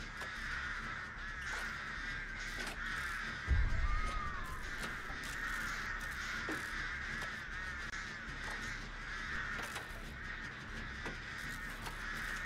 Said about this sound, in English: Claudette, you might want to get rid of those birds